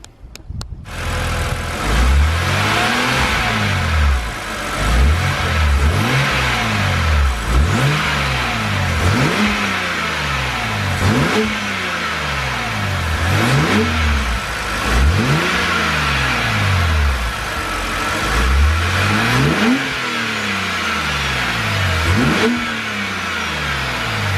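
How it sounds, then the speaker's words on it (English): A BMW N52 engine with a performance air filter revs repeatedly in rising and falling sweeps, roughly every two seconds, with a loud, close intake roar throughout. "there is actually a slight increase in the induction noise"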